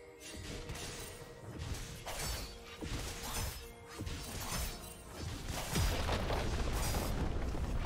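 A turret is destroyed in League of Legends, with shattering crashes and heavy booms amid continuous rumbling fight effects. The bursts of breaking debris repeat through the din.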